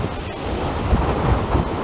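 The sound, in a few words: strong wind blowing outdoors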